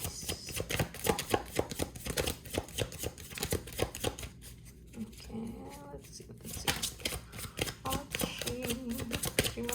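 Tarot cards being shuffled by hand before three cards are drawn: rapid riffling and slapping of cards, rhythmic and close, with a short pause midway and quiet speech mixed in.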